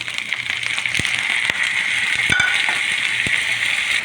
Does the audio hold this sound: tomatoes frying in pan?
yes